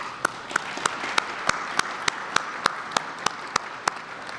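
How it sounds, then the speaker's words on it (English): A crowd applauds at an O'Hare Airport Terminal 3 transportation event, a steady wash of clapping with one close, loud pair of hands striking sharp, evenly spaced beats about three times a second. "Let's give them a round of applause"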